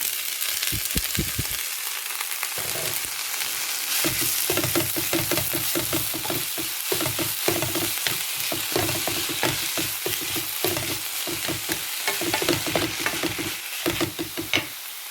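Spinach greens sautéing in a pan over golden fried aromatics, with a constant close sizzle and rapid rhythmic scraping and stirring strokes all the way through.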